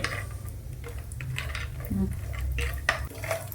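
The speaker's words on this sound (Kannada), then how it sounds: "ತುಪ್ಪದೊಳಗೆ ಒಂದು ಸ್ವಲ್ಪ ಫ್ರೈ ಮಾಡ್ಕೊಳ್ಳೋಣ" Pieces fry in ghee in a pan for coconut laddoo, with a soft background sizzle and irregular spoon scrapes and clinks against the metal, close by.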